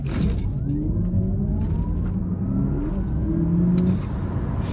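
An Audi RS e-tron GT electric car launches from 0 to 60 with a rising electric motor whine and heavy road and tyre rumble inside the cabin, climbing in pitch, plus a brief shift-like change partway through.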